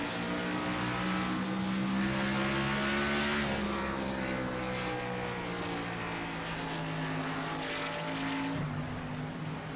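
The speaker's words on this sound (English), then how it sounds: "Oh, listen to that exhaust." A race car exhaust roars loud and close in a racing video game, its engine tone rising and shifting through gears with a steady, sustained drone.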